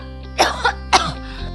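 Two or three short, rough coughs burst out close by in quick succession, with a low background hum between them, in a TV commercial for flu and cough medicine.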